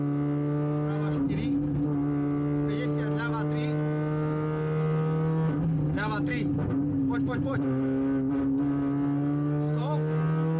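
Onboard rally car engine at Rallye Kroměříž, driven at night or early morning through town streets, droning steadily with bursts of revving and gear changes while someone talks over it throughout.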